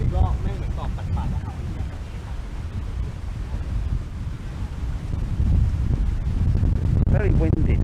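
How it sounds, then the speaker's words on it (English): Strong wind roars and buffets across a warm, windy beach near a cycle path, a loud continuous rush of gusts close to the microphone, with people briefly talking over it. "Very windy day, but it's actually very warm."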